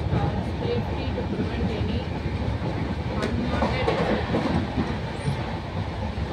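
Cholan SF Express train running on the rails near Thanjavur, heard from inside a carriage as a steady loud rumble with rhythmic clatter of the wheels and occasional squeals, continuing throughout with no talking.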